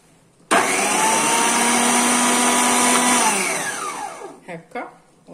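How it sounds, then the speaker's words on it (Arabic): Electric food grinder for mincing kofta or fish switching on abruptly with a loud, close, steady high-pitched motor whine that holds for about three seconds, then winds down as it stops, followed by brief handling noises. "غادي نوحل البريز باش نطحن فيها باش نوريكم"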